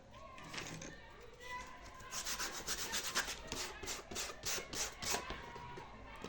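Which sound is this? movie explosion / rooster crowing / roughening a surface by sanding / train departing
roughening a surface by sanding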